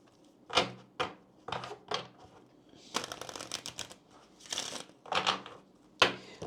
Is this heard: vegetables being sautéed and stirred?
no